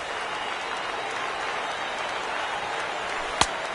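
A baseball stadium crowd rising and applauding during a Twins game, steady broad applause and crowd noise throughout with a sharp knock near the end.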